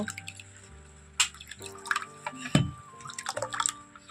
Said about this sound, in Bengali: আমি এখানে আরও হাফ কাপ আমি জল দিচ্ছি